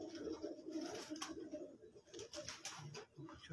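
Pigeons cooing close by in soft, repeated, throaty pulses. Light patter and tapping sounds run alongside, and no one talks.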